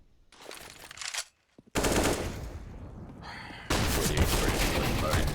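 Tech-9 pistol fire in Counter-Strike on the Inferno map during a professional match, rapid loud bursts of shots in quick succession after a brief quiet gap, with dense overlapping gunfire.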